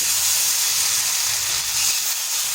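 Egg paratha batter ladled onto an oiled hot tawa, giving a loud, steady close-up sizzle and hiss that runs unbroken for the whole moment, with no voice over it.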